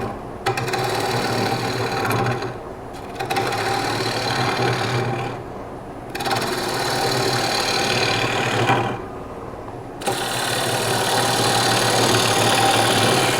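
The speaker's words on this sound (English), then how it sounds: "So now we're going to turn the lathe speed up. I'm going to start hollowing this out." A wood lathe spins up as a cherry bowl is roughed out and hollowed, giving a steady, loud mechanical whir with a rough cutting texture that drops away briefly three times before resuming.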